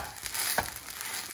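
Radish cake fries in a flat pan with a soft, continuous sizzle, briefly louder for a moment as the turned-over cake is pressed down.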